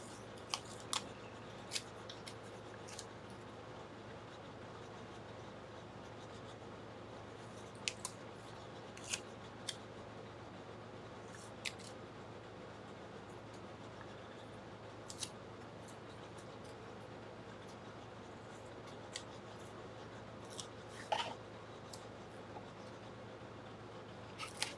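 Scissors snipping and chopping up items, likely PlayStation memory cards, with faint scattered clicks and cuts over a quiet steady background hum for about twenty-five seconds.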